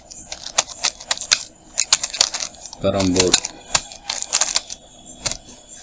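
Rapid clicks of a computer keyboard being typed on, close and crisp in uneven bursts, with a short spoken word breaking in partway through.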